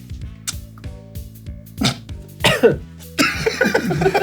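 Several harsh coughs and throat-clearing bursts come close together, growing louder toward the end over a low, steady background hum.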